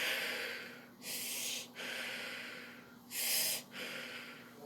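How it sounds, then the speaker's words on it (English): Heavy, close breathing comes in two loud, rasping bursts of forced exhalation, separated by quieter, softer breaths, with no talking. "Stop breathing so hard."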